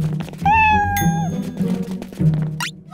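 Cartoon cats meowing in an animated scene: a loud, drawn-out meow with a rising, wavering pitch, followed by shorter, fainter cat calls over a low background hum.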